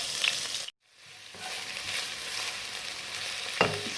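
Onions frying in ghee in a pan for a lentil dish, a soft continuous sizzle near at hand that drops out briefly, then builds back with a faint crackle and one sharp utensil tap.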